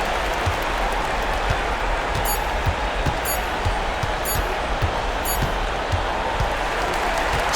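Steady broad crowd noise from a home crowd at an arena in the NBA 2K25 basketball video game, with rhythmic ball bounces thudding through it.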